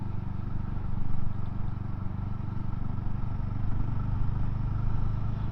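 A BSA 350 Bantam motorcycle cruises in fifth gear on a dual carriageway, its engine a steady low drone with faint rhythmic pulsing under rushing wind, heard from the rider's seat.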